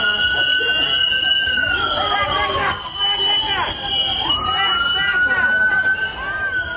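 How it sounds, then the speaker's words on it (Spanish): Protesters at an ICE raid in Minnesota shout in a loud, dense crowd, chanting voices overlapping in a continuous roar with a shrill whistle or siren-like tone sliding through the din. "Los manifestantes le gritaban vergüenza a los agentes"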